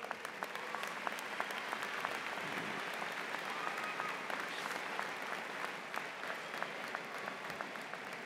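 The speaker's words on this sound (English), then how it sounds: "give them a round of applause" Crowd at a university commencement ceremony clapping for a few students, a sustained, fairly distant round of applause with crisp individual claps standing out from the wash.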